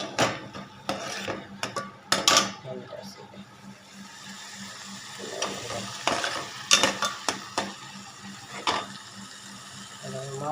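Lentils simmering in a pot on a home stove, stirred with a utensil that gives repeated scraping, clinking strokes in bursts, with a bubbling, sizzling background and someone talking over it.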